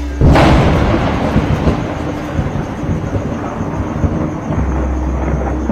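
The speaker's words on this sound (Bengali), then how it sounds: "হঠাৎ করেই মেঘের গর্জন শুরু হয়েছে।" A deep thunder rumble breaks out suddenly and rolls on loudly, low and drawn out, over a field on a stormy night, with no voices.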